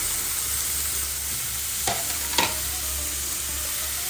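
Small chicken pieces dropped into a hot oiled pan sizzle steadily and loudly, with two brief scraping stirs of a spatula standing out over the constant frying hiss.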